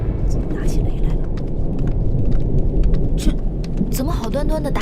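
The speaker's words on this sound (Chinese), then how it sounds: "打起雷来了！" Thunder rumbles over a steady downpour of rain on a fantasy drama's heavenly palace set, the dense broadband wash holding throughout, with a voice speaking briefly near the end.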